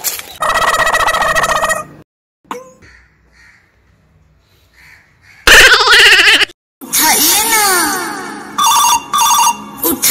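A telephone ringtone plays loud and close in repeated bursts, cut by a couple of silent gaps, then resumes with warbling electronic tones in a comedy short film.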